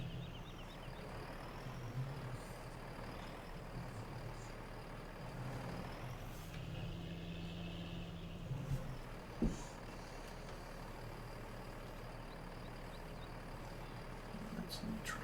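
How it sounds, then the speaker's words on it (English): A truck drives on a neighbouring farm in Farming Simulator 19, its engine a low, steady drone kept fairly quiet throughout, with a brief hiss near the middle. "That's a new truck on the neighbours."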